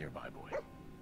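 A dog in the Fallout 4 video game gives a couple of quick, high yelping barks, faint and brief, with a voice talking around them.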